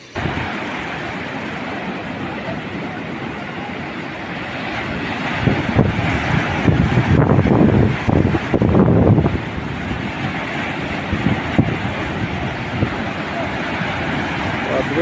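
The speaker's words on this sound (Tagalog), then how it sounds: "At kung makikita nyo guys, ayan, napakalaki ng alon." Strong wind and big ocean waves at sea beside a small fishing boat, a loud roaring wash with heavy wind buffeting on the microphone and a surge of crashing surf midway.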